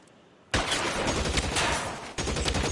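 Loud bursts of gunfire from a shootout in LA Noire, a sustained rattling volley that breaks briefly and then resumes just as hard.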